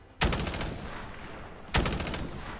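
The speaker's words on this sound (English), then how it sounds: "One quick grenade throw and that's them finished." Grenade explosions in Fallout 4 land as two sharp, loud blasts about a second and a half apart, each trailing off in a rumbling decay, with no voices over them.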